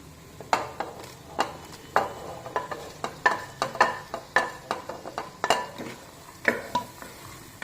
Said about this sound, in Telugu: సో ఇప్పుడు ఇందులో ఈ వేయించుకున్న రొయ్యలు వేసేస్తున్నా.